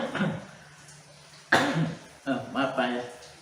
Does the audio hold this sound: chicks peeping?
no